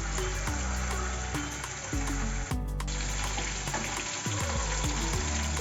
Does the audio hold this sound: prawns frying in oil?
yes